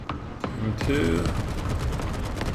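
M2 machine guns firing from an M13 Multiple Gun Motor Carriage anti-aircraft vehicle in the War Thunder game, a rapid continuous burst of close automatic fire with a mechanical clatter. A voice speaks briefly near the start.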